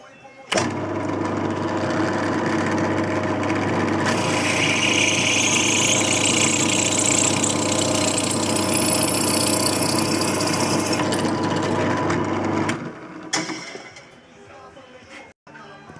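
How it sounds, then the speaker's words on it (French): A power drill bores a 6 mm hole for a motorcycle insurance certificate holder, a loud steady whine that starts abruptly, runs for about twelve seconds and then stops, followed by a few handling knocks. "je perce à 6"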